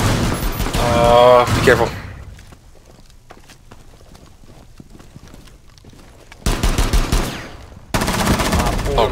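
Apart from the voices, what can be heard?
gunfire in Rainbow Six Siege video game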